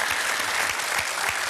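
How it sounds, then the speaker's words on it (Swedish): Studio audience applauding on a Swedish TV bingo lottery show, a steady, dense burst of clapping that holds at full strength throughout, with no talking over it. "det kan väl ge en applåd för"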